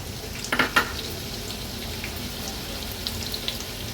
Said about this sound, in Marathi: फोडणीला हा मीडियम साईजचा एक कांदा जो आपण चिरून घेतलाय तो ॲड करूया।